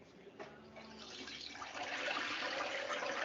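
A whole turkey lowered slowly into a hot oil fryer outdoors, a soft bubbling start that swells into a steady, growing hiss and sizzle of boiling oil, alone and fairly close.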